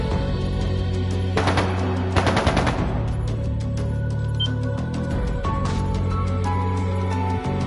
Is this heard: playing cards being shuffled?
no